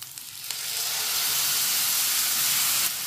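Tomato paste sizzles in a hot pan with bitter gourd and finely chopped green chillies, a steady, close, loud frying hiss that swells after a brief start and holds to the end with no talk.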